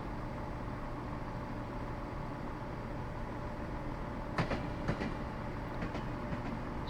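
An electric train runs in the Train Simulator 2022 game with a steady low hum and rolling rumble, joined late by a few sharp clicks and clacks, with no voices.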